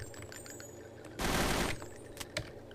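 Glock 17 pistol fire during a timed shooting stage: a loud, sharp burst of shots near the middle, followed by a couple of fainter reports over steady outdoor background noise.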